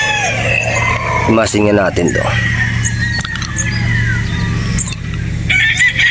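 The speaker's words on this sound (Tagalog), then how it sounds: "Ayan po siya, gwapong manok" A young gamefowl stag, a 50-50 Sweater and Boston cross, crows at a Batangas game farm, one loud harmonic crow near the start with someone talking around it against steady farm background noise.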